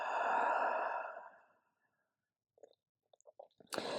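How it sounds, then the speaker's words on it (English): A long open-mouth exhale during a yoga flow, a breathy sigh that swells loudly and fades over about a second and a half, followed by silence and a few faint soft rustles and a brief noisy burst at the end. "Inhale through the nose, fill up your back, fill up your belly. Open mouth exhale."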